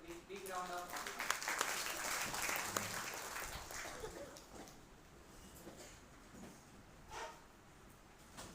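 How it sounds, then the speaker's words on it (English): An audience applauds to welcome a speaker at a Pune institute event, a loud round of clapping that builds, then thins out, with talk mixed in under it. "Please welcome Mr. Joshi sir with big round of applause."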